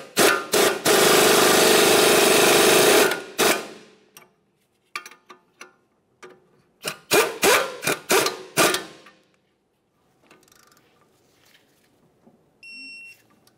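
Power tool snugging the wheel bearing mounting bolts on a 2006-2011 Honda Civic front hub: a long loud burst of whirring and rattling, then several short bursts of varying length in a quiet garage.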